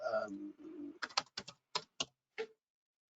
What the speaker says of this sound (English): If I type in, I don't know,